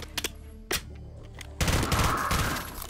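Video game gunfire in Garry's Mod during a castle siege: a few sharp isolated shots followed by a rapid sustained burst of automatic fire, fairly faint and without talking.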